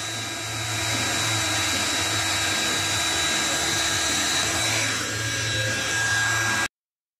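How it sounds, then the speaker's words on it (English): A heat gun heating the exhaust bolt nuts on a Subaru BRZ during a Borla cat-back exhaust install, giving a steady blowing whir that runs close and unbroken for several seconds before cutting off abruptly. "A torch works better, but a good heat gun works well."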